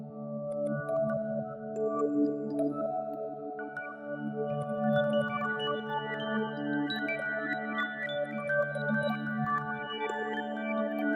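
A soft, sustained pad of layered music box notes without reverb or distortion, overlapping bell-like tones blending into a steady drone with occasional higher chimes on top, dry and close.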